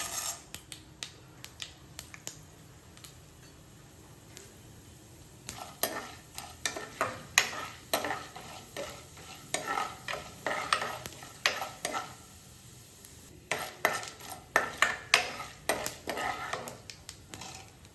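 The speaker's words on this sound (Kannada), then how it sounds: "ಇದಕ್ಕೊಂದು ಸ್ವಲ್ಪ ಸಾಸಿವೆ ಸಿಡ್ಲಿದೆ ಅನ್ನುವಾಗ ಕಡಲೆಬೇಳೆ ಮತ್ತು ಉದ್ದಿನಬೇಳೆ." Chana dal and urad dal frying with mustard seeds for a bitter gourd gojju, sharp crackling pops and spatula taps in irregular bursts over a soft sizzle, growing busier later on.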